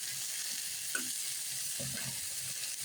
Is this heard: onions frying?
yes